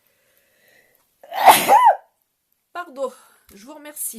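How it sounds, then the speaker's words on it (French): A single loud sneeze from a woman in a home setting, sharp and close, followed after a pause by her brief spoken thanks. "Je vais éternuer."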